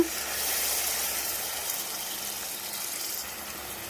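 Tamarind pulp water poured into a pot for a dried fish curry, a steady, moderately loud broadband splashing pour that runs continuously for the whole stretch with no talking.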